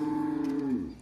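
A cow at a dairy corral gives one long, loud, close moo that sustains and then drops off at the end, heard alone without talk.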